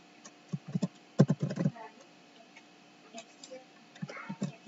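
Computer keyboard typing while entering database connection details, bursts of quick soft key clicks in short clusters with pauses, fairly faint and close.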